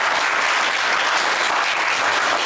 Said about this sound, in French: Eh bien, on vous applaudit très fort